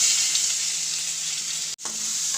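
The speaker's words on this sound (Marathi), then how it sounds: "आता मी इकडे उरलेला बटर घालते, तर आता आपण ह्याच्यात कांदा घालायचा।" Onion fries in butter for butter paneer, giving a steady close sizzle and hiss with a brief sharp clatter partway through, then the frying continues; no talking.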